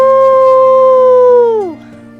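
A person imitates a wolf howl, a loud, sustained, steady-pitched vocal tone that holds for over a second and a half, then slides downward and trails off.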